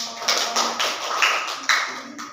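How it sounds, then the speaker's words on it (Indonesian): A few people in a small classroom clap in a loose, uneven burst, each clap sharp and close at a fairly loud level, with gaps between the separate hits. "Tepuk tangan buat Mas Niko."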